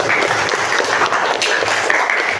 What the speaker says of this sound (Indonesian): Tepuk tangan untuk kita semua dong.